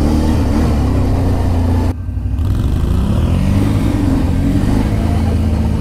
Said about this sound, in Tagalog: Ang lakas ng ATV nila.